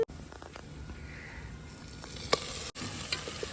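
Ground masala paste going into a hot pan for village-style chicken cooked over a wood-fired stove, giving a steady soft sizzle and crackle with a few sharp pops, close and low.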